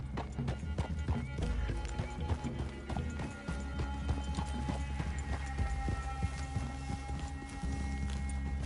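Horses' hooves clip-clop steadily on ground in Red Dead Redemption 2, a brisk, close, continuous rhythm of several animals moving together, with a brief whinny and no talk.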